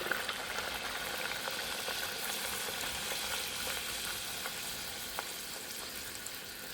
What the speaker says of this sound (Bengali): আমি লুচিগুলো ভাজতে থাকি,